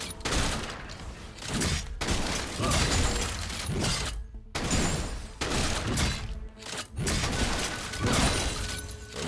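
Bursts of rapid gunfire from a video game match, several loud fusillades separated by brief silent gaps, dense and close with crackling, shattering impacts.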